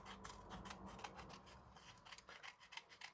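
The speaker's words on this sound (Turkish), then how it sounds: "Biraz geniş kesiyorum." Scissors snip through material for a handmade rabbit-shaped candy box, a steady run of close, crisp cutting strokes with a faint rasp.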